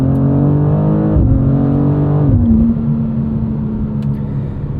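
A 2026 BMW M2 CS with a 523 hp engine accelerates hard, its loud, close engine note climbing in pitch, dropping briefly at each of two upshifts, then settling into a steady drone.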